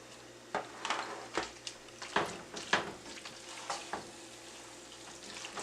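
A shrimp alfredo cheese sauce is stirred in a pan, with a soft sizzle under repeated scraping and clinking strokes of a utensil against the pan, close and fairly quiet, with no talking.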